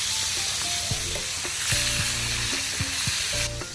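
Chicken pieces for mechado fry in a hot pan, a steady close sizzle with crackling pops and brief scraping stirs throughout, no talking.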